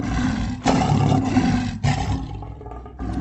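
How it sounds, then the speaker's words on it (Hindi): A lion roars loudly and close on a forest road at night, two or three heavy rasping bursts in succession with brief gaps. "ये तो किसी शेर के दहाड़ने की आवाज है।"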